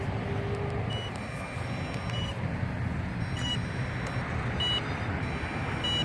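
An MJX Bugs 8 quadcopter drone sitting in grass outdoors with its low-voltage alarm active, emitting short repeated electronic beeps at roughly one-second intervals over steady outdoor background noise.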